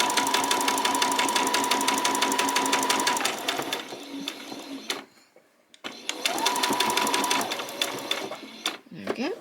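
A sewing machine runs in two fast, steady bursts while back stitching a peasant top, its rapid needle chatter pausing briefly in the middle before starting again.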